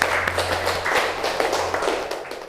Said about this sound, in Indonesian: Tepuk tangan untuk kelompok Siput.